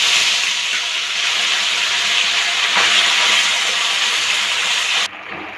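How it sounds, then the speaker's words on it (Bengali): Amadi fish frying in hot mustard oil in a wok, a loud continuous sizzle and crackle that holds steady before cutting off abruptly near the end. "তেলটা গরম হয়ে গেছে, এবার মাছগুলো ভেজে নেব।"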